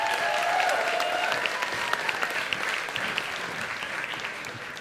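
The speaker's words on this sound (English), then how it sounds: "round of applause for Nisse Greenberg." An audience at a Moth storytelling show applauds steadily, a dense, even wash of many hands that holds for several seconds and eases slightly at the end, with no voices over it.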